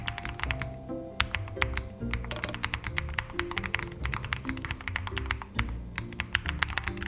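Fast typing on a premium wireless Bluetooth keyboard, a dense stream of crisp, close key taps in quick irregular bursts with short pauses, alone without talk.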